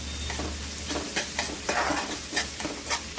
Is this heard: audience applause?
no